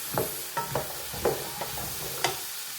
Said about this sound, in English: stir, now add your veggies